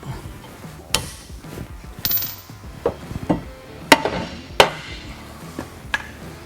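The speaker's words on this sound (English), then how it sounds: "just with a little love tap with a plastic hammer" A plastic hammer taps on a rock slider mount being fitted beside the body mount of a Jeep Wrangler JL, several sharp knocks spaced irregularly, close and clear over low background noise.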